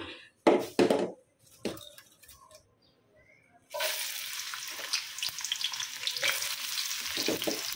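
Onions and spices drop into hot oil in a wok for a liver curry. A few loud clatters come first, then a sudden burst of steady, close sizzling and crackling that keeps going to the end.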